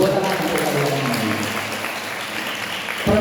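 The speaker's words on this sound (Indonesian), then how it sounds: "Tepuk tangan untuk kalian ini." An audience at an Islamic boarding school gathering breaks into applause, a dense burst of clapping that is loudest at the start and gradually thins, with a voice heard briefly over it at the beginning.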